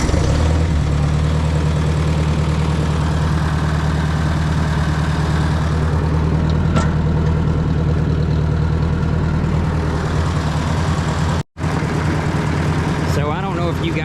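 Ford 600/800 series tractor engine idling, a steady low rumble close by and loud throughout, with a brief dropout near the end and no clear start.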